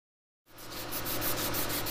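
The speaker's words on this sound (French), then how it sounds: "Il est très important de poncer et éliminer tous les restes." After brief silence, a power sander starts up and runs steadily, its rough abrasive whir grinding against a café racer motorcycle's metal fuel tank at close range.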